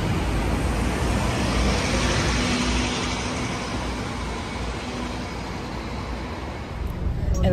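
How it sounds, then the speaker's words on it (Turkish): Interior of a double-decker bus moving through Sydney city traffic, with a steady loud broadband rumble of engine and road noise throughout and a faint tonal whine partway through. "Evet, otobüsümüze bindik şu an."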